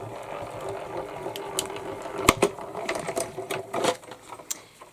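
A die-cutting machine rolls matte silver cardstock through a faux embossing folder, giving a faint mechanical clicking and ratcheting with sharp, irregular clacks that grow busier toward the end, close by and with no talking.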